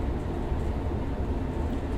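A ČD Class 843 diesel railcar running on the line from Liberec to Stará Paka in Train Sim World 6, a steady low engine drone and rumble throughout.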